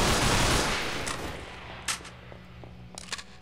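Gunfire in Underhell, a Half-Life 2 mod: a burst of loud noise fades out, followed by several sharp, separate shots at irregular intervals, moderately distant, over a low ambient hum.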